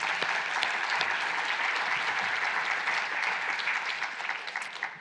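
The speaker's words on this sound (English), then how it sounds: "Maybe a separate applause for them." Conference audience at an EU agriculture event applauds speakers with sustained, dense clapping that holds steady for several seconds, then begins to thin toward the end.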